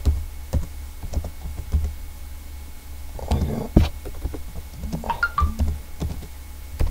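Someone types a short folder name on a computer keyboard, a run of scattered close key clicks with brief pauses, plus a couple of louder clacks in the middle and a faint low hum underneath.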